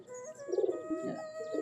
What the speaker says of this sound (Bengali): এটা হচ্ছে ঘিয়াচুল্লি কবুতর